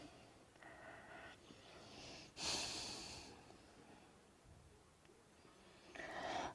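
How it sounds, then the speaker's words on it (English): Slow, audible breathing in and out during a basic yoga class, a long airy exhale swelling in the middle and another breath rising at the end, close and quiet with no talking. "Breath in, breath out."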